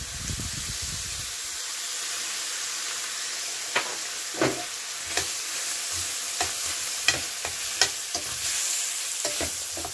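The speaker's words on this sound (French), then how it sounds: "Je vais faire revenir jusqu'à ce que l'oignon prenne une belle couleur dorée." Beef and onion brown in a pan for a beef bourguignon, a steady sizzle under repeated scraping stirs that land as sharp, irregular clacks of a utensil against the pan, close and clear.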